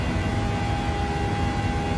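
Steady, droning jet engine roar of a PMDG 737-800 in Microsoft Flight Simulator during the climb, a continuous broadband rumble with a faint high tone, heard alone without talk.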